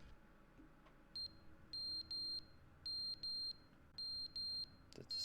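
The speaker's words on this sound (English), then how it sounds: "The smoke alarm's going off." A smoke alarm in The Stanley Parable Ultra Deluxe gives repeated piercing electronic chirps, mostly in close pairs with short gaps, clear and shrill over quiet background.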